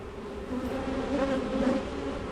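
Honey bees buzz inside an open Long Langstroth hive, a steady close drone with a low hum that swells slightly midway, with no voices.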